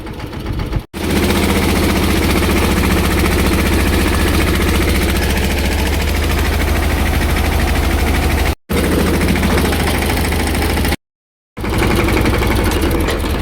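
A farm tractor idles after a session of pesticide spraying, its engine holding a loud, even, throbbing drone close by, interrupted only by a few abrupt cuts.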